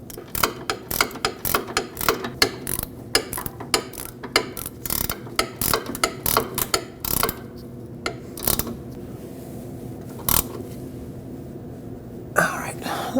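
A ratchet wrench clicks rapidly as it spins a nut onto a rear sway bar link on a Lexus IS250. The bursts of close, crisp ratcheting come in quick runs, then slow to a few separate clicks near the end.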